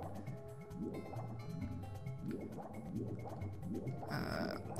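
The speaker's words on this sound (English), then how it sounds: "I think I need to work out how to lower the water level in here." Water draining away in Super Mario 64, heard as steady game audio with a repeating, rhythmic gurgling and bubbling liquid sound alongside looping background music, at an even, moderate level, with a brighter burst of sound near the end.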